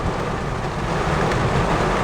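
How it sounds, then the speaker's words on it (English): Steady broadband hiss of rain, continuous and fairly loud throughout with no voices, like a downpour heard from close by. "It's raining, you know."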